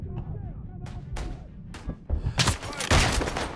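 Rifle shots and heavy impacts ring out in the Isonzo first-person shooter on the Marmolada mountain map, a few sharp cracks with echoing tails, then louder overlapping bursts of gunfire near the player.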